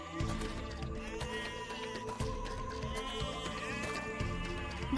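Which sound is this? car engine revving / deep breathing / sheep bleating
sheep bleating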